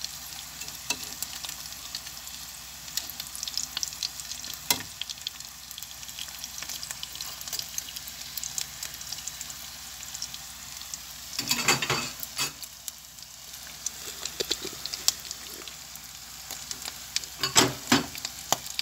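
Squid fries in a pan of oil, a steady close sizzle with scattered louder crackles and pops, several bursts clustering toward the end, with no talking.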